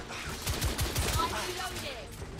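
Rapid burst of gunfire from a weapon in the video game The Order: 1886, several quick shots in a row, moderately loud, followed by faint lingering game sounds.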